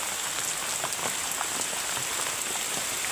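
Heavy rain pours steadily onto surfaces outdoors in a village, a dense, even hiss of drops with no pauses.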